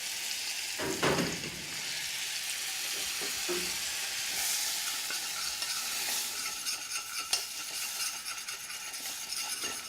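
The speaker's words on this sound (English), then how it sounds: "We'll get a roux going here." Butter and flour cook into a roux over high heat for blackened shrimp cream sauce, sizzling and crackling continuously up close while a utensil stirs through it. No one speaks.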